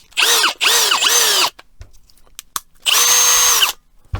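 A Milwaukee M18 cordless drill, freshly repaired, whirs in three loud bursts: two short runs with pitch dips as it slows and speeds up, a quiet gap with small clicks, then a steady run.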